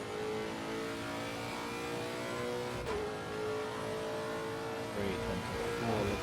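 A race car engine in a sim racing game accelerates out of the Variante Alta chicane, revving steadily through upshifts with a continuous mid-pitched drone and brief dips at gear changes, no talk over it.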